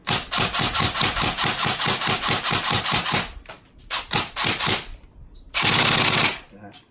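An E&C M4A1 airsoft rifle fires a rapid burst of sharp, evenly spaced shots, followed by a few scattered pops and then a final loud rattling burst nearby.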